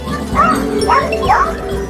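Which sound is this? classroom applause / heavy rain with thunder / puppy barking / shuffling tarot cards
puppy barking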